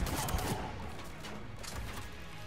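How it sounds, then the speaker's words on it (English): Pistol fire in Mass Effect 3 forms a dense, continuous burst of gunfire sounds filling the moment at steady loudness, with no clear separation between individual shots. "Let's try the pistol."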